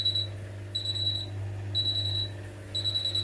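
A Miele Novotronic W1613 washing machine sounds its F63 technical-fault alarm: four evenly spaced, shrill electronic beeps over a steady low machine hum.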